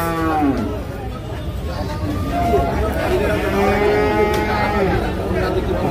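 Sahiwal bull calves moo loudly and close by at the Saturday cattle market in Kaharol, Dinajpur, with long drawn-out calls over the constant murmur of a crowd.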